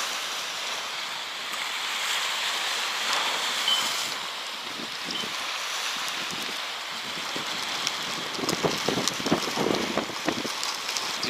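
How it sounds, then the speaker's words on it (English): Strong gusting wind roars beside the Hudson River in a December blizzard, a steady broadband rush with buffeting on the microphone that grows choppier toward the end, together with churning water. "Crazy, crazy wind."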